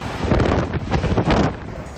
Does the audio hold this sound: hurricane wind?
yes